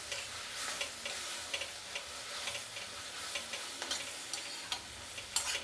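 Tomato chutney ingredients with tamarind fry in a pan, a continuous close sizzle broken by repeated scraping and ticking stir strokes.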